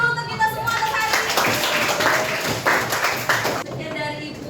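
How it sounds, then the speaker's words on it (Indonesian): A school class claps their hands together in a classroom, giving a burst of brisk, uneven claps that gradually fades, mixed with children's chatter and voices. "Tepuk tangan dulu untuk kita semua atas hari ini."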